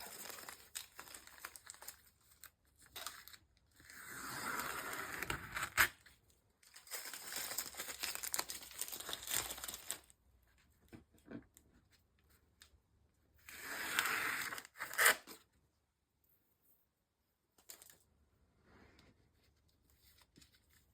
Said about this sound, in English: just remove the tape.